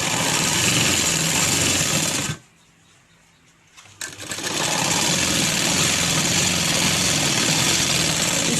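Electric sewing machine stitching a seam on a sharara garment, a loud, fast, steady whirring hum that stops briefly for about a second and a half, then resumes and runs on evenly, close by, with no speech.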